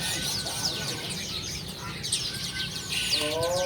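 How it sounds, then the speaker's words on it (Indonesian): Chirps and whistled calls come from songbirds, among them a sooty-headed bulbul, in cages at a bird market. The notes are brief and scattered over a busy background of market noise. "Kutilang."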